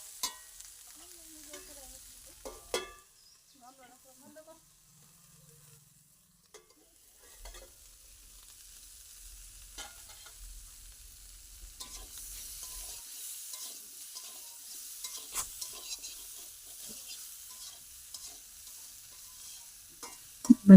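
Katla fish frying in a pan gives a quiet, intermittent sizzle that swells into a fuller crackle in the later half, with a few sharp clicks and a knock at the end, close by and without speech.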